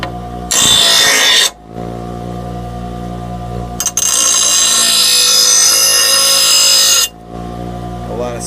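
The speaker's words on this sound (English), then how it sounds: "Always use the rough side of the grinder. So I'm cutting down this steel." A bench grinder's rough wheel grinds a steel lawn mower blade, giving loud high-pitched screeching bursts that start and stop as the blade is pressed on and lifted off, close up over a steady motor hum.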